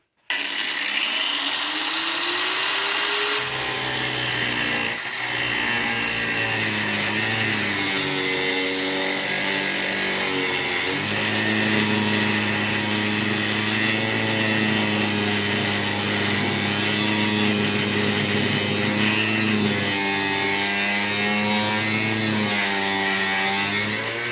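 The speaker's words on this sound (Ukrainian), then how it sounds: "а для мене це робота з болгаркою" An angle grinder whines steadily and harshly for a long stretch, its pitch wavering as it cuts aluminium on an old military motorcycle cylinder head, close and loud throughout.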